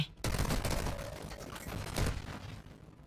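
Rapid gunfire in the mobile battle royale shooter Warzone Mobile, a dense burst of automatic shots followed by a second surge, loud and close, with a faint voice underneath.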